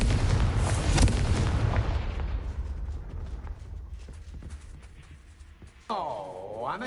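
A Confringo blasting spell explodes in Hogwarts Legacy with a loud, booming detonation that rumbles and slowly fades over several seconds, ending with a swooping, tonal magical effect.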